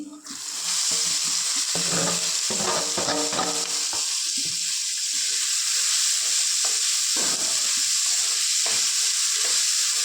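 Chopped vegetables fry and sizzle in a hot pan for a rice-flour dhokla recipe, a steady loud hiss with a few stirring clatters near the start, no talk.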